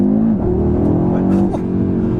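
A 2022 Audi RS3 accelerates hard, its engine note loud and close from inside the car, with a brief drop at a gear change before the tone climbs again, a voice talking over it.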